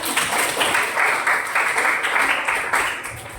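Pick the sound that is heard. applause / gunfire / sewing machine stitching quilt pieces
applause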